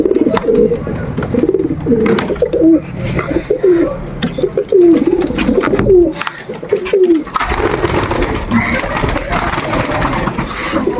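Pigeons coo repeatedly close by, a string of throaty rolling calls over a busy background hum.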